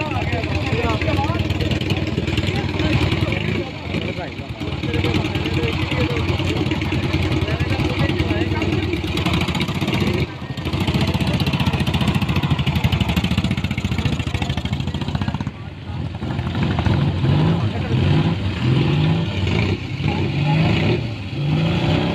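Classic motorcycles at a bike club gathering idle and rev nearby, a steady engine rumble with occasional throttle rises, heard under ongoing talk.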